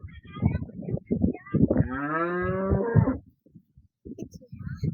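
A cow moos once, a long loud low call, while someone talks briefly before and after it at a small farm with jersey and red cows and calves.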